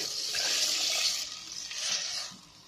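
Water pours steadily into a pot of fish soup, a soft splashing stream that swells and eases over a few seconds, quiet and close with no talking.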